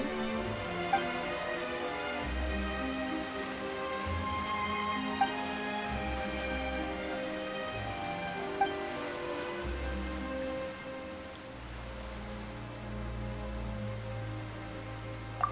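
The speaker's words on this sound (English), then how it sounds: "Why is it raining all of a sudden?" Rain falls steadily in the Genshin Impact game world, a soft continuous hiss with faint pattering, heard over low sustained background music.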